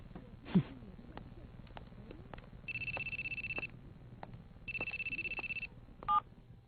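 A telephone rings twice in a Tagalog-dubbed episode of the Hunter x Hunter anime, each ring a short, bright trilling burst over quiet background noise. A brief beep follows at the end.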